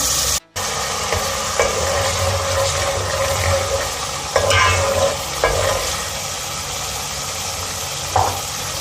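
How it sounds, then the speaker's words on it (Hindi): Continuous sizzling of garlic frying in hot oil in a small pan, close and steady, with a few brief scrapes and bumps over the hiss. "ये हमने लहसुन डाल दिया।"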